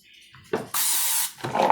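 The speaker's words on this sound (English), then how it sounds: "it calls for canola oil to spray" Canola oil sprayed from a can onto French fries headed for an Insignia 3.2L air fryer, one short hiss followed by a longer steady spray, close and fairly soft.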